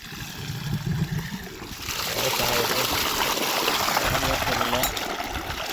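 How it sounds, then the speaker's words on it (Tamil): Irrigation water released through a field gate, opened with a spanner because its handle is broken, rushes out in a steady, loud gushing flow that strengthens after a moment, with people talking nearby. "நம்ம தண்ணி எடுத்து விட போகிறோம்"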